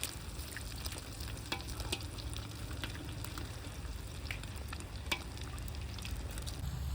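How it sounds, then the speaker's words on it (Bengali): Eggs frying in white oil in a wok make a steady, close crackling sizzle with scattered sharp pops throughout, no voices. "প্রথমে আমরা কড়াইতে সাদা তেল দিয়ে ডিমটাকে ফেটে নেব"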